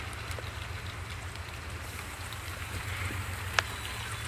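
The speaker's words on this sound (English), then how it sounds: "It's raining with the sun out." Steady light rain falls through sunshine, a soft continuous patter with a low rumbling background and one brief sharp tap near the end.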